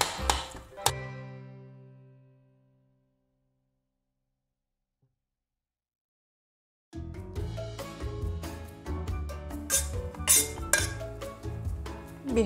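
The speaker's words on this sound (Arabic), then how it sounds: "حاول نهرس الموزة بقلب الشوفان تماما." A spoon mashes banana into oats in a bowl: first one ringing clink that fades into near silence, then several seconds of busy, close scraping, tapping and clattering against the bowl.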